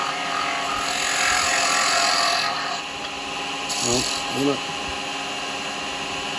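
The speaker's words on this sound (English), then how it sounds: "we use a square chisel" A square chisel cuts a wooden pen blank spinning on a woodturning lathe, making a loud, continuous scraping whir that eases off midway, with a short spoken remark near the end.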